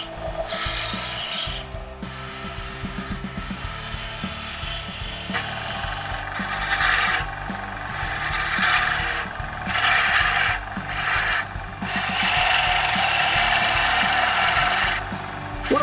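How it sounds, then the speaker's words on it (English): Woodturning lathe with a roughing gouge cutting a wooden cake stand, a loud continuous rasping, scraping drone with brief gaps as the tool lifts off the spinning wood. "So I'll use the roughing gouge again and I'll get to work."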